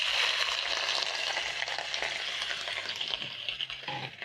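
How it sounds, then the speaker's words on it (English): Matumbo (tripe) hisses and sizzles in a hot pan as it is stirred, a steady, close crackle of frying with no water added. "Once the pan is nice and hot, I'm going to transfer in my matumbo."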